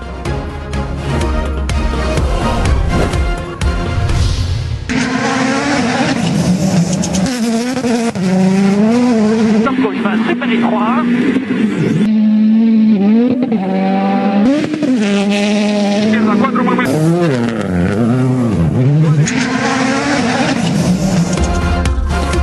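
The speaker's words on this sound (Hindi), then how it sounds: "पथरीले और मुश्किल ट्रैक पर दौड़ती कारें, कठिन मोड़ों पर ड्रिफ्टिंग करते हुए तजुर्बेकार ड्राइवर्स का इम्तिहान जारी।" Rally cars in Italy racing and drifting through hard corners on a rough, stony track, engines roaring loudly and continuously with rising and falling revs and tire noise, close and dominant with no talking.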